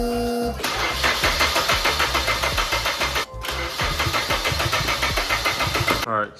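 A Nissan 240SX that has sat for 20 years cranks with a loud, rapid rhythmic churning in two attempts, separated by a brief pause, and never catches or starts.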